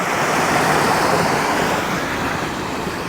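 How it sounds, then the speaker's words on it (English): A small decorative water feature at an RV resort splashes in a steady, continuous wash of falling water, close and fairly loud, with no voices over it. "And a beautiful little water feature."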